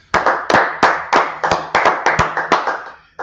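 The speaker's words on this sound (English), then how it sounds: "Go ahead, clap it up." A small group claps hands together in a steady rhythm, about ten sharp, distinct claps, close and loud with no talking.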